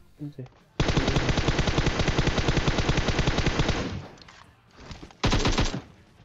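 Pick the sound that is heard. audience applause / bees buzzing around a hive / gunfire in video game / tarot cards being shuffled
gunfire in video game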